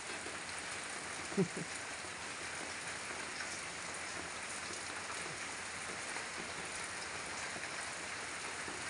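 Steady heavy rain from Typhoon Paulo pours down as a constant, even hiss that fills the whole stretch, with no talk over it.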